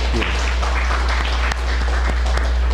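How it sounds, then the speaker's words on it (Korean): A church congregation applauds graduating students at a Sunday family worship service, steady broadband clapping filling the room for about three seconds with a sharp accent midway. "우리 박수로 격려하실까요?"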